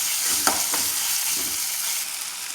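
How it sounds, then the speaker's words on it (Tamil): Onion, tomato and ginger garlic paste being sautéed in a pan, a steady close sizzle broken by a few scraping stirs. "இஞ்சி பூண்டு பேஸ்ட்டு இந்த பச்சை வாசனை போகிற வரைக்கும் இதை கொஞ்சம் வதக்கி"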